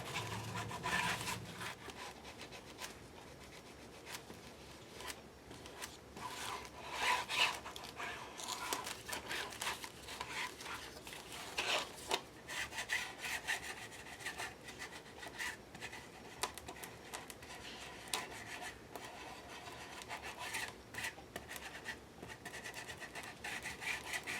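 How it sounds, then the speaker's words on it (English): StazOn black ink rubbed across the raised embossing of a handmade ocean-inspired book cover, a steady close scraping and rubbing texture that runs the whole time with no talk. "I'm going to bring in my StazOn black ink and pick up some of the embossing."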